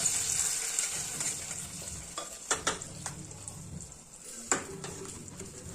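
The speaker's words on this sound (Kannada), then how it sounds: "ಒಗ್ಗರಣೆ ಹಾಕ್ತಾ ಇದ್ದೀನಿ." Hot tempering of oil, mustard seeds, onion and curry leaves hitting spinach curry, a close steady sizzle broken by a few sharp crackles and stirring clinks.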